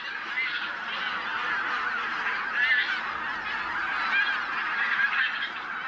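A dense flock of wild geese honks continuously at a snowbound Morava river floodplain forest in winter. The overlapping calls form a steady, fairly loud clamor with no talking.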